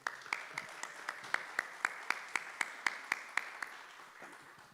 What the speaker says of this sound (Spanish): Vamos a hacer fila con un fuerte aplauso también.